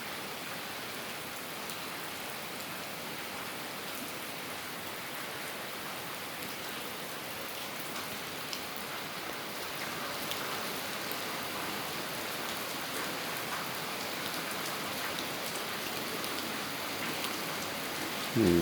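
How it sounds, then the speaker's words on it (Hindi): Heavy morning rain pouring down in District Rajanpur, a dense, steady hiss of drops on surfaces that holds throughout with no voices. "बहुत ही स्पीड में बारिश हो रही है।"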